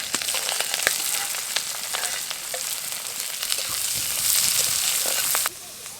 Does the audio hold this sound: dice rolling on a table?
no